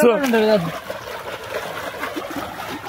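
Water rushes and splashes in a continuous wash, with a voice briefly heard at the start.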